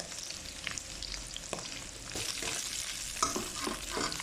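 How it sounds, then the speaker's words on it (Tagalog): Garlic sizzles and crackles in hot cooking oil in a pan, a steady close frying hiss with occasional stirring clatter and small pops, no voices. "Lagyan na natin ng oil. Ilagay ko na yung garlic."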